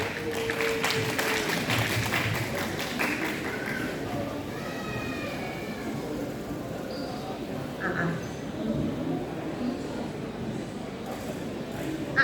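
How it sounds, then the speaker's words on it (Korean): Audience applause at a Korean teacher-training talk show on English classes, a sustained patter of clapping from a seated crowd, with speech from a host in the room. "박수로 맞이하겠습니다"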